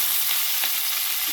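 Onion and green chili fry in a pan without tempering, giving a constant, close hiss of sizzling oil with faint crackles, alone and without talk.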